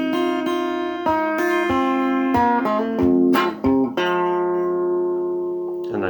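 A guitar plays the groove intro of a song, rhythmic plucked notes with hammer-ons and bass-string hits, then a final note left ringing and decaying, close and clean with no talking.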